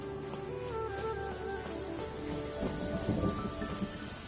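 Rain pours steadily with a low roll of thunder rumbling through the middle in Genshin Impact, a dense, even downpour with no voices.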